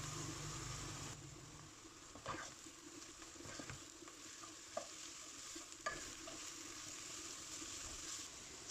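Steady sizzling of onions and carrots sautéing in a pan, with a few soft clinks and scrapes of a utensil stirring now and then.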